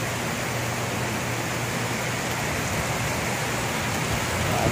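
Heavy rain pours down steadily in a broad, continuous hiss that stays loud and even from start to finish, with no voices over it.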